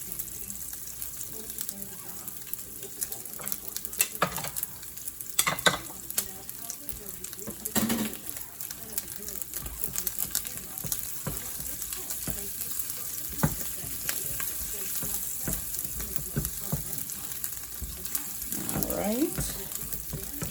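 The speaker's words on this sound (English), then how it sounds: "we're going to let the salami cook and brown up a little bit" Salami sizzles and browns in a pan with a constant, dense crackle, broken by occasional stirring scrapes and a brief watery gush, while faint talk sits low underneath.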